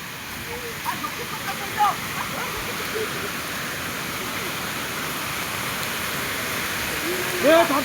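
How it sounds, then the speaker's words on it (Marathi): A forest waterfall, one of two hidden cascades in a wooded area, gives a steady, even rush of falling water at a moderate distance, with a few faint brief sounds over it. "ते बघा धबधबा तिथे एक आहे आणि इथे एक आहे, दोन आहेत बघा धबधबे"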